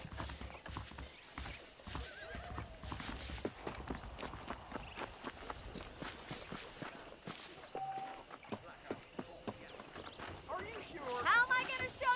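Hooves thud along with neighing from saddled horses at a ranch in Red Dead Redemption, moderately quiet, mixed with footsteps and background game sound.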